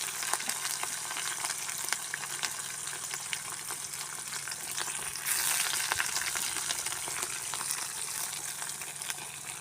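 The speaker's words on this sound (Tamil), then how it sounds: "நல்லா பொடிக்கும் ஓசை வந்துச்சு" Steady, close crackling and sizzling of spices frying in hot oil for a potato and egg masala, continuous and fairly loud throughout with no voices.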